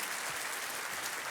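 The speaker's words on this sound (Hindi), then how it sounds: "तालियों के साथ इनका भी अभिनंदन किया जाए।" Studio audience applause on a TV quiz show, a brief, steady burst of clapping at moderate level with no talk.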